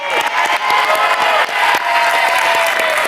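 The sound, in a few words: audience applause on game show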